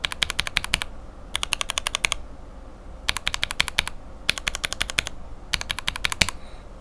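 A mechanical keyboard with lensed Gateron top housings on Cherry bottom housings types in five quick bursts of crisp, clacky keystrokes separated by short pauses, close up and loud, with no voices.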